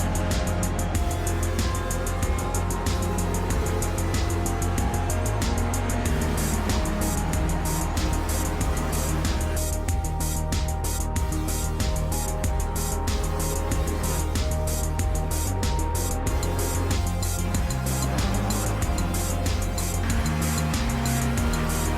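A Ferrari 488 GT3 race car engine in Assetto Corsa Competizione roars continuously at high revs, loud and dense throughout, with rapid gear shifts and pitch changes as it cuts through the field on a race track.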